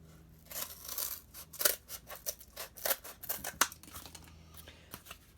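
Scissors snip through material for a DIY smartphone speaker amplifier, a rapid run of sharp crisp cuts with uneven rhythm, close and fairly loud, with a few paper-like crinkles between the snips.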